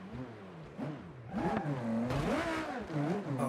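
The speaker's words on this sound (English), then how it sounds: "I can hear his exhaust" A vehicle's engine exhaust revs and surges as it passes, the pitch swinging up and down through repeated throttle changes, moderately loud and continuous.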